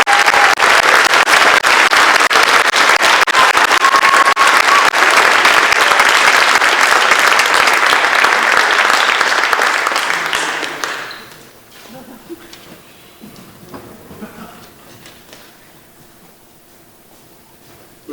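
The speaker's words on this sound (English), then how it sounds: "We have another round of applause for these seniors." An audience at a high school concert band spring concert applauds the seniors, loud dense clapping for about ten seconds before it fades into scattered claps and a quiet room.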